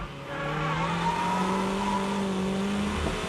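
A Toyota MR2 drift car braking hard into a corner, its engine note sliding down in pitch as it slows, loud and close for a few seconds with a faint tire scrub underneath.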